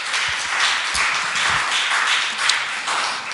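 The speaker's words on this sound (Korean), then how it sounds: "우리 청년부에게 다시 한번 격려의 박수 부탁드립니다" A church congregation claps steadily during a Sunday worship service, producing a dense, even patter of applause that carries on throughout.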